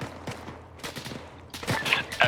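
A .50 caliber machine gun fires in a military video game, a rapid burst of loud reports over background noise that builds toward the end of the short stretch.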